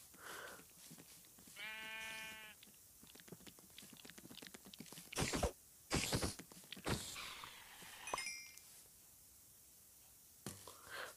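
A sheep in Minecraft Pocket Edition gives one clear, close bleat, followed by scattered short game effects: thuds, whooshes and clicks against a quiet background.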